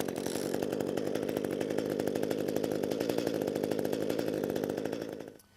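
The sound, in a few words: ECHO gas hedge trimmer engine running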